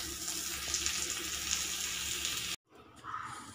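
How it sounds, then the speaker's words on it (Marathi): Onion frying in hot oil in a pan while cooking an Indian chavli rassa curry, a steady close hiss and sizzle that cuts off abruptly near the end, followed by quieter kitchen noise. "इथे मी कांदा परतायला टाकला आहे. आता तर चांगलं तेलात परतून घ्यायचं आहे."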